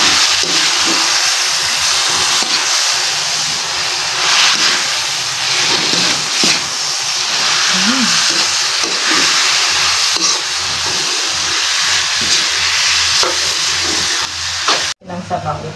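Crab and salmon sautéing in a hot pan, a loud continuous sizzling hiss lasting throughout, with brief voices mixed in and a sharp cutoff near the end.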